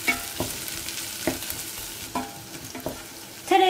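Onions sautéing in olive oil with a spoonful of butter added, a soft steady sizzle broken by several stirring scrapes and clinks of a spoon in the pan.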